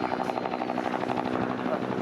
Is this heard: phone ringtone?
no